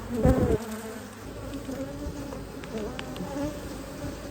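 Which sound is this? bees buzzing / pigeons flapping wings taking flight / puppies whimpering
bees buzzing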